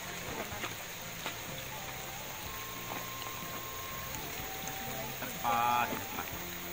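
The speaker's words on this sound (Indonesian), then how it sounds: "hujan ya" Rain falls on a rural hut in Indonesia, a steady soft hiss behind tonal noises and brief clatter, with people talking nearby.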